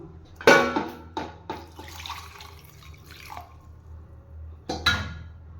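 Water splashes and trickles onto tamarind in a bowl in a few short pours, with clinks of a vessel, close by and moderately loud.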